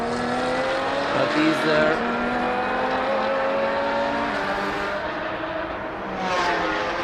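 Race cars circling a circuit in Riga during a Baltic touring car championship round, engines droning and revving steadily throughout with a commentator speaking over the racing.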